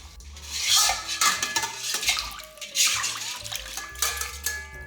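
Frozen rice for century egg congee drops into a basin of water to thaw, with splashes, swirling water and clinks of a bowl or utensil that rise and fall in uneven bursts.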